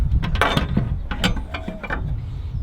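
Ratchet clicking as it backs out the rear mounting bolt of a 4WD shock absorber with a remote canister, several short clattering bursts close by with some background handling noise.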